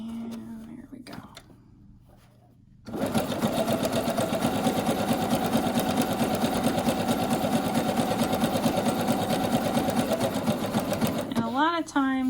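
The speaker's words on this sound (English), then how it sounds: "the sewing machine" A sewing machine stitching fabric runs in a steady, fast whirring buzz for about nine seconds after a quieter opening with a few soft sounds, then stops as a voice begins speaking.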